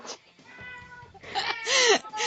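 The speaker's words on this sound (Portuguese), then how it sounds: "Ele começa a miar bem na hora" A pet cat meows several times in a row indoors, the drawn-out, rising and falling cries close and clear with no talk over them.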